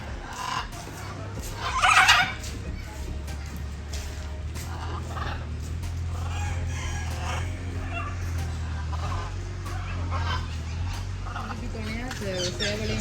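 Chickens cluck and a rooster crows amid a busy zoo enclosure at Dehiwala Zoo, Sri Lanka, with a steady low hum underneath and a louder burst of crowing near the start.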